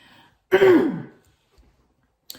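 A single short throat clearing, close and distinct, followed by near silence and a faint click at the end.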